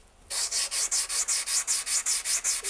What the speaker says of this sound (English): re-true my stone by sanding it flat